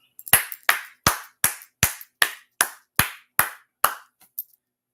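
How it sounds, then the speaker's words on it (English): About ten sharp, evenly spaced claps ring out one after another, loud and close, then trail off with a couple of faint final pats. "let's clap it up"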